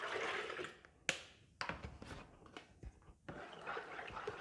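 Liquid glycerin soap mixture is poured into a container, giving a soft, faint gurgling splash with a few louder sloshes and drips, close by and without talk.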